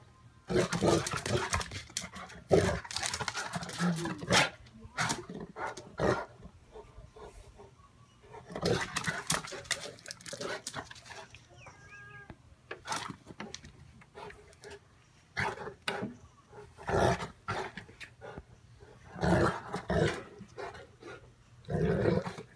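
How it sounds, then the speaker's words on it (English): An excited dog makes bursts of growling, roaring noises in irregular bouts, loud and close, with quieter pauses between them. "Crazy doggy!"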